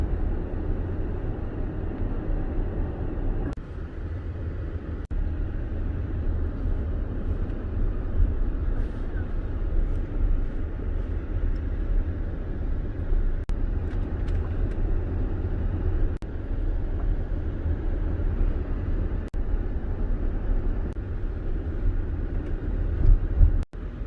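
A Tesla drives along South Collier Boulevard near Marco Island, Florida, with a steady low road and cabin rumble throughout and a few faint clicks.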